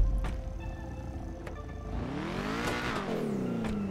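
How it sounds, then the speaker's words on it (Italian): An Audi sports car in the video game GTA 5 revs hard, the engine pitch sweeping up and back down in loud, close surges, with a sharp rise near the end. "adesso vi faccio sentire il sound perché è veramente indemoniata sta macchina"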